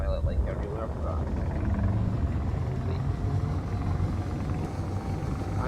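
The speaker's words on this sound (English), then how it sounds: "I'm now using the upper thrust from the big large thrusters" Large thrusters fire on a ship in Space Engineers, a continuous low, heavy roar like a helicopter or jet engine that holds steady throughout, with a voice talking over it.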